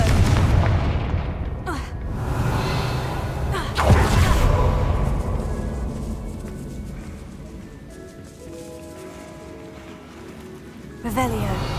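A Confringo blasting curse explodes in Hogwarts Legacy, a sharp booming blast around four seconds in with a shorter burst earlier and a crackling pop near the end, set over steady game music and ambience, with a voice speaking.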